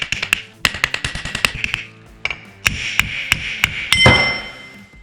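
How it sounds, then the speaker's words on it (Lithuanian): A hammer knocks a gear off a BMW E90 differential: sharp, ringing metallic strikes come in quick bursts separated by short pauses, ending with a heavier blow that rings on. "tiesiog reikėtų daryti plaktuku"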